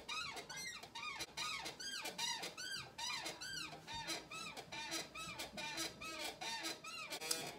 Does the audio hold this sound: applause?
no